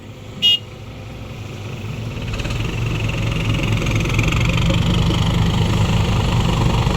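A car engine idles steadily with a low rumble that grows slightly louder, with a brief high chirp near the start.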